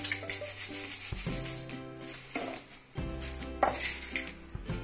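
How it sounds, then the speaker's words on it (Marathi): Flattened rice (poha) shaken through a metal sieve to clear fine debris, giving steady rustling and scraping with clinks, close and continuous, with no talking. "असा कचरा पडतो बारीक, म्हणून असं चाळून टाकायचं."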